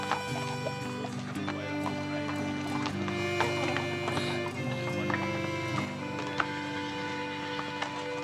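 Pack horses plod along a rugged mountain trail in the Canadian Rockies backcountry, their hooves making steady, dense clip-clop beneath a continuous musical backdrop.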